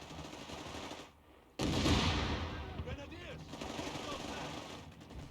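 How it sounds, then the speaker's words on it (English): Machine gun fire in Company of Heroes 3 multiplayer rattles in sustained bursts with distant artillery rumble, dropping out briefly before a loud burst resumes, while a player talks over the battle. "they've got machine guns around everywhere, it seems"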